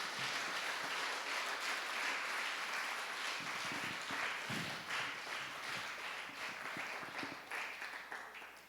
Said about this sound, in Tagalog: Kaya nyo pang palakpakan ng Diyos.